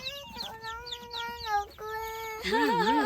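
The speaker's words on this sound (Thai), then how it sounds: "คุณแม่ก็จับไก่" A hen being caught in a backyard poultry coop gives a run of loud, close, agitated clucks and squawks, rising into a frantic wavering cackle at the end.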